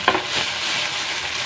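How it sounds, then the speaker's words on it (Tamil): Chutney paste goes into hot oil with spluttering mustard seeds in a kadai, hitting with a sharp burst of sizzle that settles into a steady, close frying hiss. "இப்போ வந்து பேஸ்ட் எடுத்து அதில் ஊற்றிக்கலாம்."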